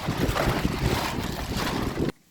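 Strong wind buffets the microphone in a loud, continuous roar for about two seconds, then cuts off abruptly to near silence.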